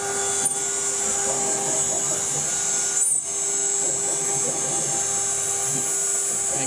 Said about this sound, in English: you can hear the difference in pitch of the stepper motors